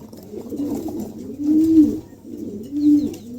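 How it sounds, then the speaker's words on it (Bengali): A pair of pigeons coos softly and nearby in low, rolling phrases, with two fuller coos standing out over a quiet background. "দর্শক এখানে একজোড়া কবুতর আছে দেখেন চমৎকার এক জোড়া কবুতর"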